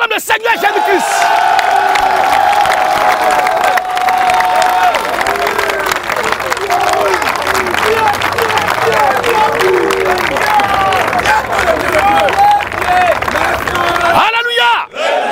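A large crowd at a Christian revival meeting cheers, shouts and applauds loudly and continuously, with voices and clapping filling the space until a sudden drop near the end.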